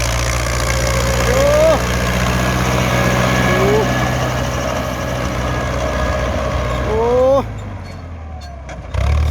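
A Ford tractor engine chugs steadily nearby in a rice field with a low, even drone, while voices speak over it in short bursts before it cuts off.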